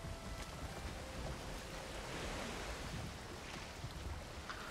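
Wind and surf around a sailing boat in the video game Valheim, a steady broadband rush of waves and gusts held at a low, even level with no talking.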